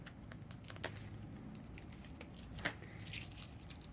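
Tape peeled off the back of an embroidery hoop makes soft, crackly tearing and crinkling, with a few sharper ticks through a quiet, close, steady rustle.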